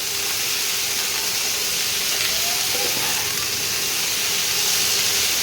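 Potatoes and onions fry in a pan with a steady, loud sizzle and hiss that stays constant throughout, with no talking.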